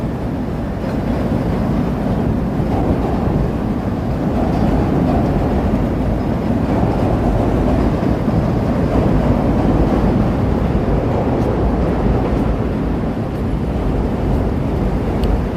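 Deep, continuous rumble from a train rolling by in Chicago, a loud, steady roar sustained throughout with no voices over it.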